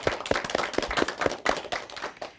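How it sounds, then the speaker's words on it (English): A crowd claps in a round of applause after elementary school derby matches, with quick, uneven hand claps filling a short, steady burst without talk. "I like to hear a real big round of applause for yourselves"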